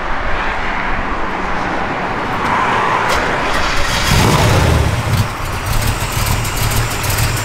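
A 1965 Chevrolet Chevy II with a mild cam rumbles loudly at close range, idling with a lopey rhythm and a brief rev swelling partway through.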